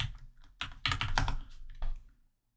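Keys clacking on a Logitech K380 wireless keyboard, a close burst of quick, uneven keystrokes that runs for about two seconds and then stops.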